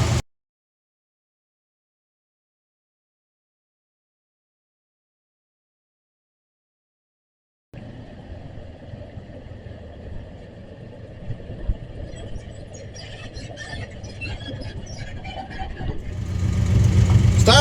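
After a long stretch of silence, a car's engine starts running nearby and grows steadily louder toward the end as the car pulls away.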